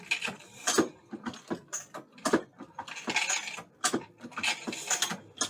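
A Lee APP press resizes .38 Special brass cases through a carbide die, producing quick irregular mechanical clacks and metallic clicks of each stroke and case handling, close and unaccompanied by talk.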